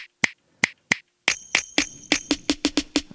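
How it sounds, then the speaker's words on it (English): A tambourine-type snare sample plays on an Elektron Digitakt: four sparse, crisp hits, then a quicker, steady run of bright, jangly strikes, close and dry with no talking. "so we got that tambourine type snare"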